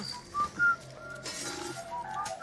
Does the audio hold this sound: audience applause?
no